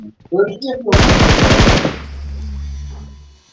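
An M762 rifle in a mobile battle-royale game fires a rapid automatic burst of about a dozen loud, close shots, preceded by a short voice and followed by a ringing low hum that fades out.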